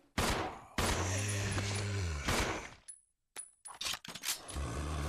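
Gunfire from the video game Resident Evil Zero comes in several loud bursts separated by brief silent gaps, with sharp metallic reports and echoing tails.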